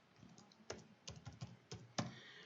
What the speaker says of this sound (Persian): وقتی پایتون رو تایپ میکنید